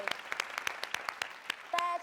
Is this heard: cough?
no